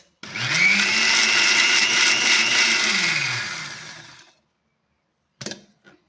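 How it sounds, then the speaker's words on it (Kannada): A mixer grinder whirs loudly as it grinds palak without water for about four seconds, its motor pitch dipping and rising, then cuts off; a short rattle of the jar follows after the silence. "ಈಗ ನಾನು ಪಾಲಕ್ಗೆ ನೀರೇನು ಹಾಕಲ್ಲ, ಹಾಗೆ ರುಬ್ಕೊಳ್ತೀನಿ."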